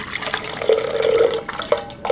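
Water runs steadily into a container for a measured 8 ounces, with a continuous close splashing pour that rises in pitch as it fills, under a faint ringing tone.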